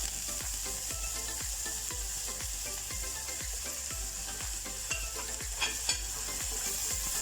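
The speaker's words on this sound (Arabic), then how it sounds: "هنايا درنا الزيت سخنات، غادي نرمي فيها البصله" Onion frying in hot oil while being stirred, with a rhythmic scraping about twice a second over a soft, constant sizzle, near and fairly quiet, with nobody speaking.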